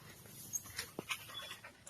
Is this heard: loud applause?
no